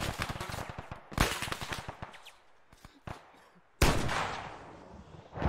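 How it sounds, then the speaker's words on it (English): Machine guns rattle across an Arma 3 battlefield in uneven bursts of rapid shots, some near and loud, others fainter and scattered, with one heavy blast rolling out near the end. "Is there a machine gun firing at us, by the way?"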